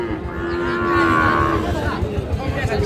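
A Sahiwal cow lows in a long, drawn-out moo over the steady murmur of a busy village cattle market in Dinajpur, Bangladesh, with voices and movement in the background.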